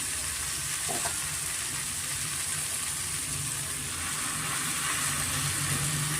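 Coarsely chopped palak spinach hits a pan of softened tomato for a palak chana curry, giving a steady, close, loud sizzle and crackle of frying that holds throughout with no talking.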